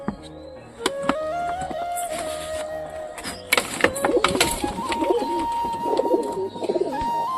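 Newly bought pigeons coo at close range amid a busy mix of bird calls, clatter and background noise, with low throaty coos recurring through the second half.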